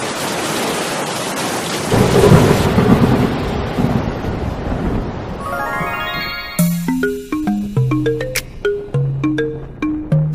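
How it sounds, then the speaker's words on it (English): A cartoon thunderstorm over the sea: rain pours under a loud, deep rolling thunder crash. The storm then gives way to bright plucked music notes. "Wonderful, and the storm has come."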